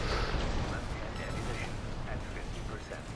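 Continuous weapons fire from mechs in the Armored Core VI arena, a dense, unbroken barrage of booms and bursts that fills the whole stretch at moderate level.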